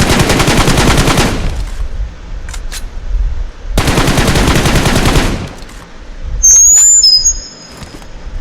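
Rapid automatic gunfire bursts from BGMI headshot practice in a team deathmatch, two long loud bursts separated by quieter gaps with faint scattered shots, then a sharp high electronic whine near the end.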